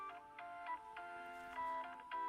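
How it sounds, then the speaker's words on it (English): A telephone rings in a warm indoor setting, its tonal electronic pulses repeating steadily at a moderate level with no talking over it. "Phone is ringing."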